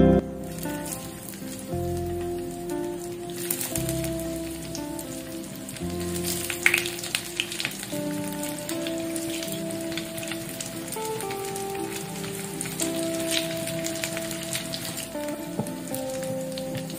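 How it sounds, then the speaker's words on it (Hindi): Potato vegetable tikki shallow frying in a pan, a soft continuous sizzle and crackle under faint background tones, with no talk. "फिर इसे सूजी में या ब्रेड क्रम्स में लपेट करके हमें इसको शैलो फ्राई करना है।"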